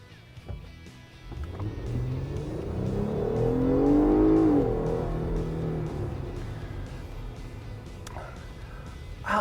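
Jeep Gladiator in sport mode with a throttle booster accelerates, its engine note rising to a loud peak midway and then easing off, with a steady low drone throughout.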